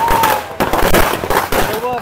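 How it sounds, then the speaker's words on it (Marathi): Firecrackers and fireworks bursting at a crowded temple festival in Kunkeri, a dense run of loud, close crackling pops and bangs over crowd noise and voices. "सर्व फटाक्यांची आतषबाजी जोरदार सुरू आहे"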